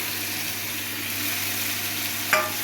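Spiced fish stirred in a pan, a short steady sizzle with one brief sharp scrape near the end.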